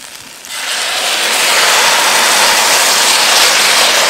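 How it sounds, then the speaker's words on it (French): Garlic sauce is poured into a hot pan of ginger and onion for sweet and sour chicken, setting off a sudden loud, steady hiss of sizzling that swells within a second and holds to the end. "je vais verser la sauce à l'ail"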